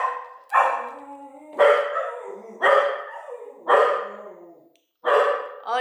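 Five loud, close dog barks at roughly one-second intervals in a garden setting, each sharp and ringing, with no talking between them.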